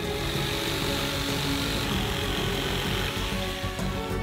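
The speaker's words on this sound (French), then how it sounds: "le découpez avec une scie sauteuse" A steady, loud jigsaw drone with gritty cutting noise, running continuously through wood, close by and uninterrupted.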